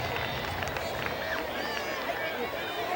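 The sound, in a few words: crowd applause for injured football punter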